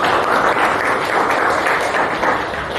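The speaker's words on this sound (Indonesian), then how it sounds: "tepuk tangan untuk 10 sebelah" A classroom applauds a group of students: dense, steady clapping from many hands fills the whole stretch at an even, fairly loud level, with no pauses and no voices standing out.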